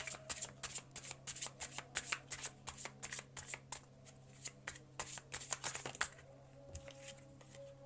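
Playing cards riffled and shuffled by a magician in quick repeated bursts, close and crisp, with a short pause before a final flurry of shuffles.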